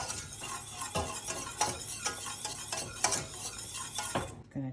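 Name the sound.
vigorously mixing a flour roux paste in a pan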